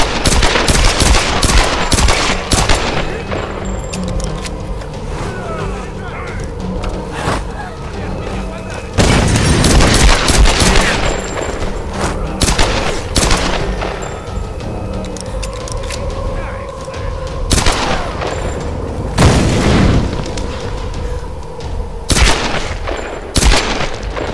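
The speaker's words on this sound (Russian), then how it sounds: "Ах, стреляю" Repeated gunshots and heavy booms from Tomb Raider gameplay, loud sharp bursts scattered through the stretch with a clustered volley near the middle, under a game soundtrack with occasional voices.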